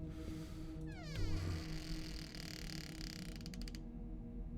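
A door creaking open in a video game, a long drawn-out mechanical creak with ratcheting clicks that ends abruptly, heard alone against a low ambient hum.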